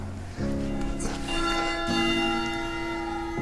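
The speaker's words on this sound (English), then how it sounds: "newlyweds should ring the bell to get luck and ensure that their marriage will last forever" The wishing bell in the church on Lake Bled's island rings out loudly nearby, struck twice in quick succession, its bright metallic tone sustaining and slowly fading.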